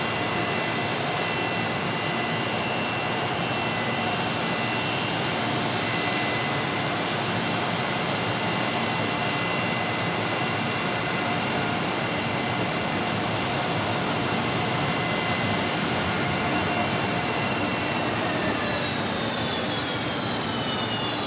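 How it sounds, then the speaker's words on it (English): Rolls-Royce engines on a Rex Fokker airliner at Brisbane Airport, a steady, loud turbine roar with a high whine that holds for the full stretch and begins to shift near the end. "Beautiful, beautiful sounds from the Rolls Royce on the Fokker."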